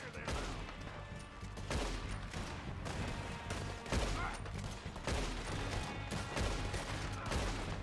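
Dense gunfire in a Red Dead Redemption 2 shootout in a forest, with rapid overlapping shots and volleys going on without a break at steady loudness for the whole stretch.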